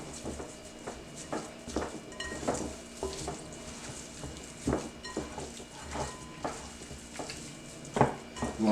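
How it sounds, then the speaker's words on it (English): Oxtail is mixed by hand in a bowl, producing wet squelches, slaps and clattering bumps against the bowl in an uneven rhythm up close, with no speech. "Then we just gonna go in here and mix it up with our hands."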